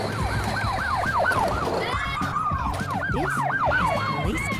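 A toy police car's siren yelps in a fast, repeating up-and-down warble, fairly loud and close, running continuously throughout.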